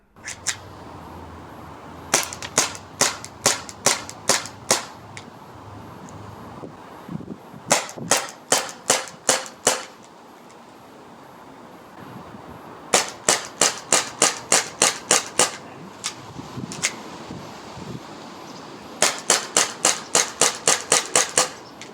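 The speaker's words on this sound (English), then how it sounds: "if you set it to dry fire mode, it delivers a much harder punch in the hand compared to when it's actually shooting the BBs" Walther PPK airsoft gas blowback pistol firing in rapid strings of sharp snapping shots, four bursts of about six to ten shots each separated by short pauses, close and loud with no speech.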